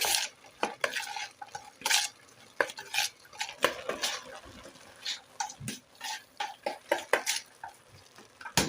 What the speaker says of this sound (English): And let us mix.